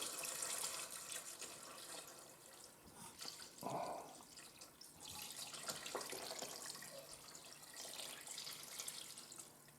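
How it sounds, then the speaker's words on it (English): Water poured from a canister into a cooking pot holding oranges, a continuous splashing trickle with a brief heavier gush partway through, fairly faint and close, with no talking. "you're going to pour this water with the oranges."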